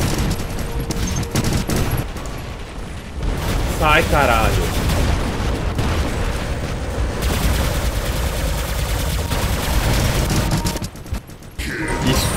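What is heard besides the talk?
gunfire in the video game War Robots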